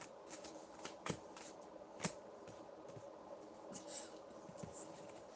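A deck of playing cards is shuffled quietly nearby, a soft continuous riffling patter with a couple of sharper snaps, low in level with no talking.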